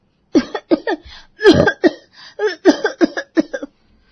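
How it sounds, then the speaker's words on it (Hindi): A woman coughs repeatedly in a quick series of harsh, close bursts, with short gasps between them, loud and alone. "ये तुम्हें बार बार खांसी क्यों आ रही है?"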